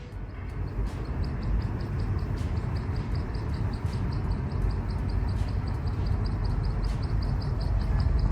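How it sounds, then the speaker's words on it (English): Rapid, regular high-pitched chirps repeat over a steady low engine rumble, like a bird-like squeak coming from a running car. "why does my car make bird chirping noises?"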